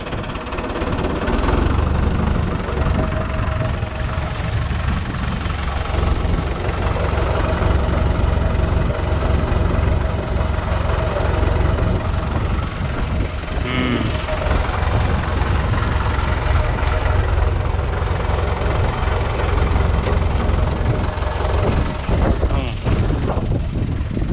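A loud engine is given throttle nearby while spreading fertilizer in an olive grove, a constant heavy rumble and mechanical throb that barely changes over the whole stretch.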